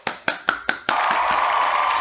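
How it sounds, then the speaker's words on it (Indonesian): An Indonesian classroom during a maths lesson applauds a student: four sharp, evenly spaced claps ring out, then merge into a dense, steady wash of group clapping that carries on to the end. "Kita berikan tepuk tangan ya pada Antika karena sudah berani menjawab."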